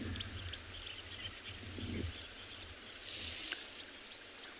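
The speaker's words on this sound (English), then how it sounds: "It's wonderful just to sit and listen to the lovely sounds of Chitwa, all the birds calling." Birds calling at Chitwa, South Africa, including marsh weavers, buffalo weavers, pied wagtail and green-backed camaroptera, scattered faint chirps and whistles over a steady hiss of insects and low rumble, some calls distant.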